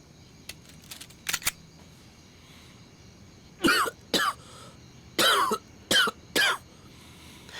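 A man in a drama scene coughs several times in short, sharp bursts, close and fairly loud, spread over a few seconds against a quiet background.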